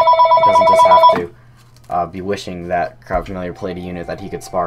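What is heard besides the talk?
telephone ringing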